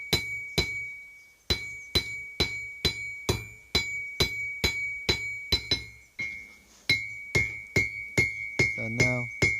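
Hot steel for a bowl lathe hook is hammered on the bick of an anvil. Ringing, metallic strikes come close and loud in a steady rhythm of about two blows per second, with one short pause partway through.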